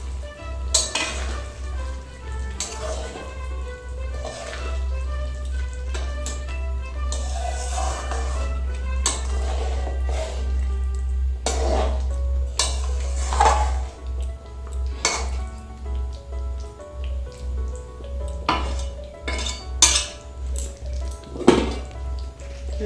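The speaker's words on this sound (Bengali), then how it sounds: "বেগুনগুলো দিয়ে একটু ভালো করে মশলার সঙ্গে মাখিয়ে নেব" Brinjal pieces are stirred with spices in a pan for a meatless beguner siraji, a spatula scraping and clinking against the metal in irregular strokes over a faint, low sizzle.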